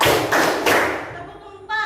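Students clap their hands together in a classroom counting game, a few sharp, close claps in quick succession, with a voice speaking alongside.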